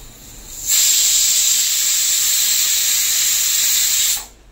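Water sprays over free-range chicken meat as it is washed, making a close, steady hissing rush that starts abruptly, holds for about three and a half seconds, then stops.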